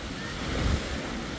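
Waves wash steadily onto Umm al Quwain beach in the UAE, a continuous close roar of surf mixed with wind buffeting the microphone.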